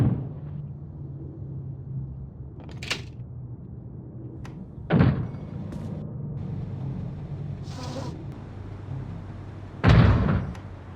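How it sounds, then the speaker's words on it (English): A door being broken down: heavy, echoing slams land at two points several seconds apart, with lighter knocks and a low steady hum between them. "If you don't open, we'll break down the door."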